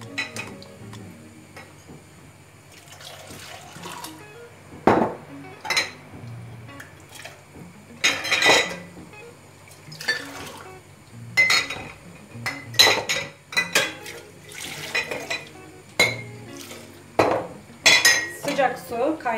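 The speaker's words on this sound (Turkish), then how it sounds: "Şimdi kaynar suyu kavanozların üzerinden şöyle dökeceğim. Bunların hepsini şöyle çalkalayacağım." Glass jars rinsed with boiling water while preparing canned menemen, sharp glassy clinks and knocks scattered irregularly over a low watery background, close and fairly loud, with clusters of rattling as the jars are swirled.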